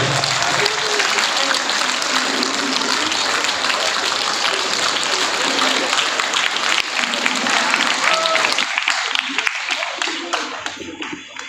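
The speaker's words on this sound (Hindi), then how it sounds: "जोरदार तालियों में इस्तक़बाल है।" An audience at an award ceremony breaks into loud, dense applause that goes on for several seconds, then thins toward the end as the clapping dies away, with voices faintly mixed in.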